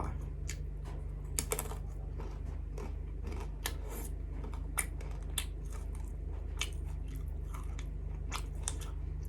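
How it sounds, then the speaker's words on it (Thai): Crispy baked okra snack crunched between the teeth, sharp crackling bites and chews repeating steadily and close over a low steady hum, with no talk. "กรอบแล้วก็หวาน อร่อยมากกระเจี๊ยบจ้ะ"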